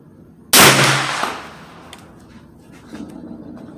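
A single sharp, loud gunshot from a 9mm Ruger PC Carbine, cracking close by and decaying into a ringing echo over about a second, with faint clatter afterward.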